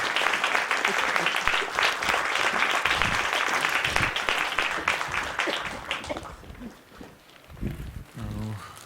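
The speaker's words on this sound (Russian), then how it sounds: "Искупайте его в аплодисментах." Concert audience applauding after a romance-song performance, dense clapping through most of the clip that thins and fades near the end as a few stray sounds remain.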